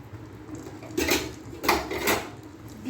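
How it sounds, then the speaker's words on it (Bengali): Semolina is stirred with ghee in a dry pan, a spoon scraping and clinking against the metal in a few short bursts, close and fairly quiet. "ঘিটার সঙ্গে আমি এটাকে সুজিটাকে ভালো করে নেড়ে নিচ্ছি।"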